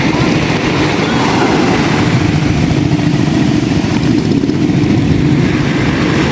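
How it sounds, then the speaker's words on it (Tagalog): A fishing boat's motor drones loud and steady at close range, an unbroken mechanical rumble that stays even from start to finish. "pinaandar na po ni Tita yung bangka"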